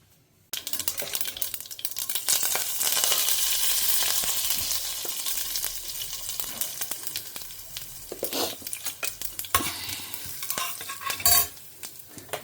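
Mustard seeds and cumin fry in hot coconut oil, sizzling steadily with crackles and pops and occasional stirring scrapes, close up and without talk.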